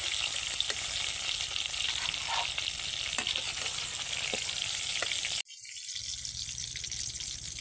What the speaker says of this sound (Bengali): আলু আর পটল ভাজা হয়ে গেল